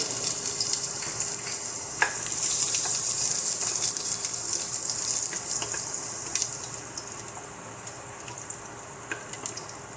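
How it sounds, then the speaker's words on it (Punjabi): Loud, constant frying sizzle of finely chopped ginger and garlic in oil, with a sharp bright hiss, punctuated by occasional clacks of a utensil stirring the pan. "ਇੱਥੇ ਪਾ ਦਵਾਂਗੇ ਬਰੀਕ ਕੱਟਿਆ ਹੋਇਆ ਅਦਰਕ ਤੇ ਲਸਣ 2 ਮਿੰਟ ਵਾਸਤੇ ਆਪਾਂ ਇਹਨੂੰ ਭੁੰਨਾਂਗੇ"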